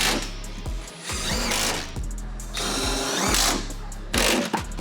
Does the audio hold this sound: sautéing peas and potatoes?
no